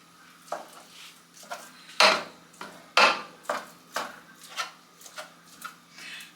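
Ground venison being broken up in a pan with a utensil: a series of sharp scraping knocks and clacks against the pan, some louder than others, irregular and close, with no talk.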